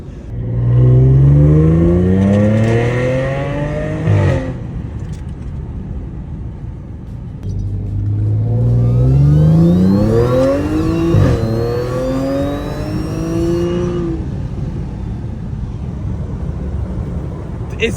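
An Audi S5 engine revs hard in two long rising and falling pulls with a downshift between them, loud and close, then settles into a steady rumble.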